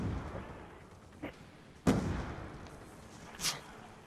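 A grenade explodes in a first-person shooter video game, giving a sharp, booming blast that decays into rumble, with fainter pops and shots before and after against a constant background din.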